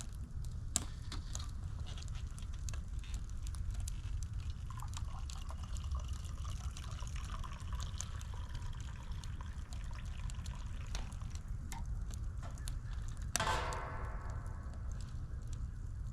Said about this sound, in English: I'm gonna pour me my coffee.